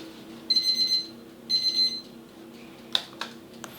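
Oven timer alarm while caramel cornflakes bake, beeping in two sustained bursts, followed by a few sharp clicks as the timer is handled.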